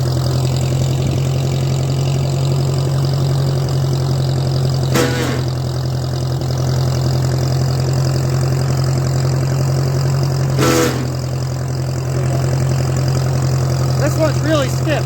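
A tractor engine idles loud and steady with a deep constant hum, set up to run a Jinma wood chipper through the PTO, with two brief clanking knocks along the way.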